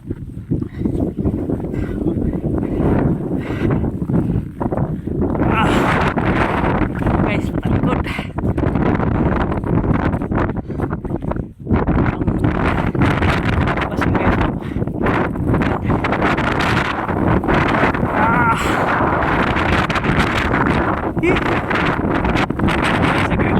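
Strong, steady wind in Greenland roars and buffets the microphone throughout, a loud broadband rush with gusty swells.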